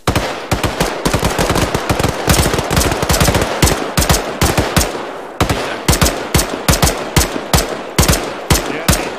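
Sustained bursts of automatic gunfire in an Arma 3 firefight, dozens of sharp cracks in quick uneven clusters, loud and close with brief gaps, running the whole way through.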